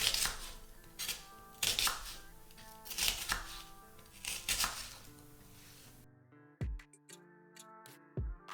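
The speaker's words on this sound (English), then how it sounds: "So cut it into smaller pieces because it's just easier for you to be able" A knife chops onions into smaller pieces on a board, with sharp, irregular knocks in quick clusters, then a pause and a few separate taps close by, fairly quiet overall.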